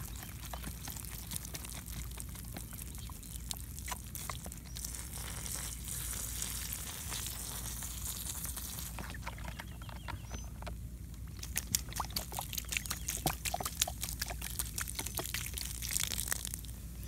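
Hydrogen peroxide poured into a fire ant mound: continuous fizzing and crackling bubbles, close up and steady for the whole stretch, with faint sizzling pops and no voices.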